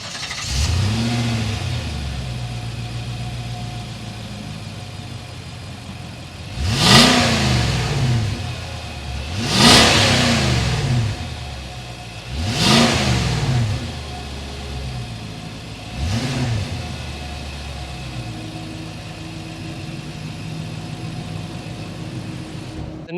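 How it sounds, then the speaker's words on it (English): A 2022 Nissan Armada SL's 5.6-liter V8 idles with a deep steady exhaust burble, then is revved four times in spaced, swelling blips that rise and fall back to idle, heard close and loud without talk. "let's hear that exhaust note"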